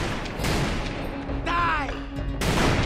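Gunshots in the video game Call of Juarez: Bound in Blood: several sharp, loud reports a few beats apart, with a ringing tone in between and some voices mixed in.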